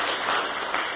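A short burst of audience applause at the launch of a national agribusiness policy, a brief, dense patter of many hands clapping in a hall.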